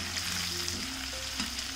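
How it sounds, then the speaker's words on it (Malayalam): Dynamite chicken fries in a pan over a low flame, giving a steady, dense sizzle throughout with a faint hum underneath and no talking. "ഫ്ലെയിം കുറച്ച് വെച്ചിട്ട് വേണം നമ്മളിത് ഫ്രൈ ചെയ്തെടുക്കാനുള്ളത്"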